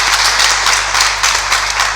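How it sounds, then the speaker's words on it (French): Continuous hand clapping in applause, steady rapid claps carrying on without pause for a couple of seconds, fairly loud and close. "Alors là, moi j'applaudis."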